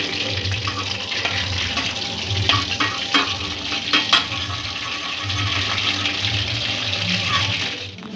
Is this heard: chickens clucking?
no